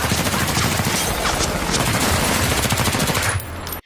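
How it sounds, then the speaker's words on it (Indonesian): Rapid police gunfire in a film scene, a dense continuous burst of automatic shots rattling loudly for several seconds before cutting off abruptly. "Tiba-tiba muncul sekelompok polisi suruhan Sinwoo yang menembaki Ito dan Johan."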